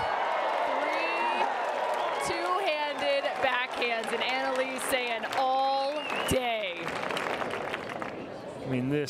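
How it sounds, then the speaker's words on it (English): A crowd at a pickleball national championship match cheers and applauds in a sustained, loud roar, while commentators talk over it throughout. "This crowd just erupted."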